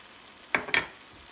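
Two short bursts of sizzling as yogurt is stirred into a hot tomato and onion masala in ghee for an Indian egg curry, faint and quick against a quiet background.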